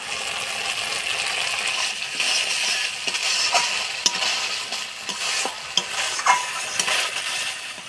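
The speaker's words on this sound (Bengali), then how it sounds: "বাটি ধোয়া জল দিয়ে মশলাটা ভালো করে কষায় নিব।" Spice paste being stirred and fried in a pan with a little water for a Bengali eggplant dish, a steady close sizzle with repeated scraping stirs and small clicks of the spoon throughout.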